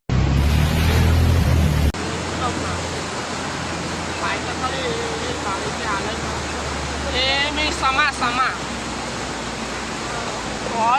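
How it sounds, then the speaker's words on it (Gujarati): Floodwater of the Vishwamitri river rushes in a loud, steady roar during a massive flood in Vadodara, India, with a heavy rumble at first, and people talking over the torrent. "એ જે બસ ઉભી છે ને ત્યાં આગળ પાણીનો ફોર્સ જબરદસ્ત છે અને વિશ્વામિત્રી રિવર માં તો જુઓ"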